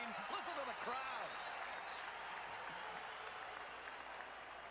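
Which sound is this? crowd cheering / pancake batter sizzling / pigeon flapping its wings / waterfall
crowd cheering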